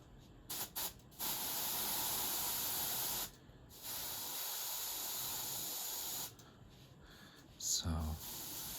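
An airbrush sprays black Vallejo Mecha primer onto a BattleTech miniature at about 2.5 bar, a close soft hiss in several steady bursts of one to three seconds separated by brief pauses.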